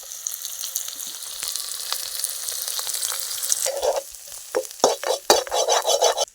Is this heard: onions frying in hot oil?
yes